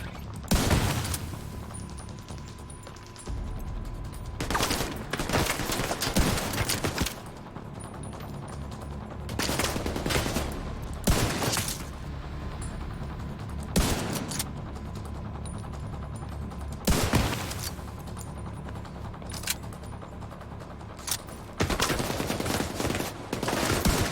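Gunfire in the video game Tom Clancy's The Division 2: repeated loud bursts of automatic fire and single shots come in irregular clusters over a continuous background rumble, with short gaps between the volleys.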